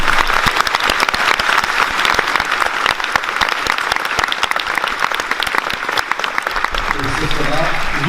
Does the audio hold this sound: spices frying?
no